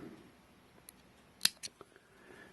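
Scissors snip fly-tying feathers close by, giving a few faint, quick crisp cuts with one sharper snip in the middle against a quiet background.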